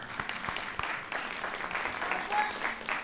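An audience applauds at an annual beautification awards ceremony, with steady, dense clapping from a moderate crowd in a hall, some individual claps standing out and a faint murmur of voices underneath.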